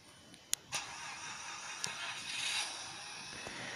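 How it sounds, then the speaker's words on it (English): A Mazda RX-8 starting up and revving, replayed through a Fire tablet's small speaker: a couple of sharp clicks, then a faint, thin engine whoosh that swells and settles, quiet and distant-sounding. "this video is of a Mazda RX-8 startup and engine rev"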